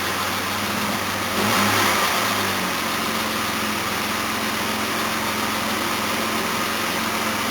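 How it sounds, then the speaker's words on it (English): A Jaguar XJ6 engine idles steadily, then is given a brief rev near the start before settling back to a smooth, even idle. "Should give it a little rev."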